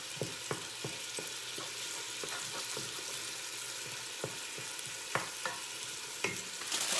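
A pork chop with spices frying in a pan for spaghetti sauce, a soft continuous sizzle broken by sharp stirring taps and scrapes, fairly quiet.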